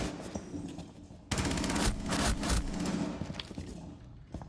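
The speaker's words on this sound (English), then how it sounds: "Oh, God, I'm getting shot, Tom, from down the corridor." Rapid automatic gunfire in a video game, a loud sustained burst of shots coming from down a corridor, breaking out abruptly after a quieter stretch and then trailing off into scattered thumps.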